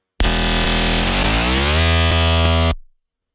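Pigments synthesizer plays a frequency-modulated tone, a harsh, dense, buzzing sustained sound whose timbre shifts as it holds for about two and a half seconds before cutting off into silence.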